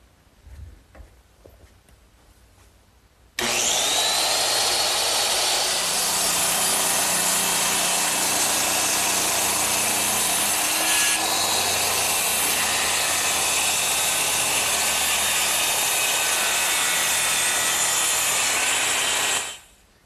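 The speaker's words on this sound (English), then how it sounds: "I'm ready to cut them with my circular saw" A circular saw cuts through nailed wooden gable pieces clamped in a bench vise. After a few seconds of quiet handling noises, the blade whines loud and close, cutting in one long continuous pass before stopping abruptly.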